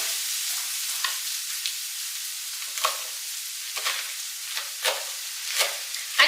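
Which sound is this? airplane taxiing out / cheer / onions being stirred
onions being stirred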